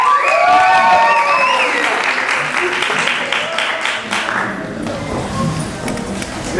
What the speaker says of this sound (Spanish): Santiago, un fuerte aplauso para Santiago.